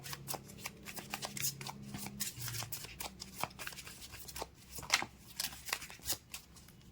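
Tarot cards are shuffled by hand in quick riffling bursts and soft slaps, close and fairly quiet, repeating in an uneven rhythm without talk.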